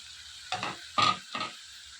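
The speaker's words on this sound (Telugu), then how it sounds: "ఇందులో కొన్ని టమాటాలు కొద్దిగా చింతపండు వేసుకుని ఇవన్నీ కూడా బాగా ఫ్రై చేసుకోవాలి" Tomatoes and a little tamarind frying in a pan give three short bursts of sizzle and stirring against quiet background.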